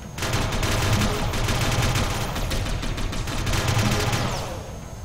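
Sustained automatic gunfire rattles in Satellite Reign, a dense rapid stream of shots lasting several seconds at close range, loud and continuous before cutting off and fading, with no talking.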